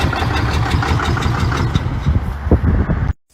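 A 6.7L Cummins diesel engine with extreme blow-by runs loud and close, a dense, steady low rumble and clatter that holds for about three seconds before cutting off abruptly.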